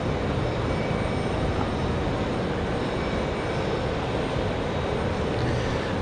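Jet airliner engines roar at Raleigh Durham airport on a windy day, a loud steady broadband rumble that holds level throughout without any voices.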